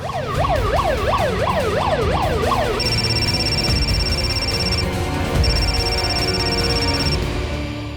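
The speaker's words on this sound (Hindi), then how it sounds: "मैं एम्बुलेंस लेकर जा रहा हूँ" An ambulance siren wails in rapid rising-and-falling sweeps, then changes to a steady high two-tone pattern, loud and continuous over a dense background rumble.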